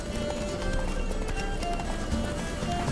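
Geralt's horse gallops in The Witcher 3 with steady rapid clip-clop hoofbeats and a brief whinny, loud and continuous over game ambience.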